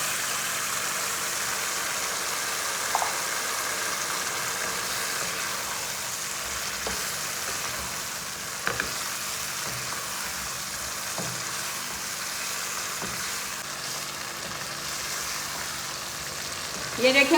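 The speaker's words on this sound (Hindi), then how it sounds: "ये अब इसी स्टेज पे मैं आलू को फ्राई करूँगी इसमें।" Potatoes fry in gravy in a pan, producing a continuous bright, even sizzle with occasional soft clicks of stirring, steady and close throughout.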